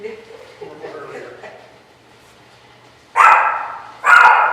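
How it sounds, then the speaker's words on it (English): A dog barking indoors during a canning class, two loud, sharp barks close by, preceded by quiet talking. "Hey, there's a dog here."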